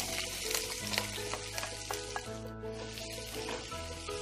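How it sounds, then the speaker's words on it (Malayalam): Sliced onions and green chillies sizzle and crackle in a pan with popped mustard seeds, a dense continuous frying hiss with small scraping stirs, no voices. "ഇതിലേക്ക് 4 സവാളയും 3 പച്ചമുളകും കട്ട് ചെയ്ത് ചേർത്ത് കൊടുക്കാം."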